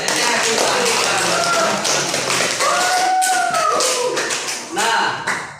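Audience clapping in a classroom lesson on the Majapahit kingdom, a dense wash of hand claps holding steady for several seconds with a few brief voices rising through it before it thins at the end.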